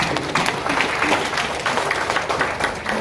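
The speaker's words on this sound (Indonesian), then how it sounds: "tepuk tangan Bapak Ibu" An audience at an Indonesian network marketing seminar claps together, a dense, continuous burst of applause filling the room at fairly close range for a few seconds.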